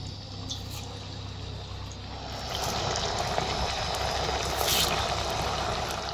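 Potato medu vadas deep-frying in hot oil give a steady, close, dense crackling sizzle that swells louder about halfway through and holds without any talking.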